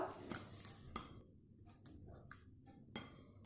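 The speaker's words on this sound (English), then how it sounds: "Keep mixing till you get a smooth batter." Eggless cake batter with milk mixed in a bowl, the utensil scraping and clinking against the sides in irregular strokes, close and fairly quiet, with no one talking.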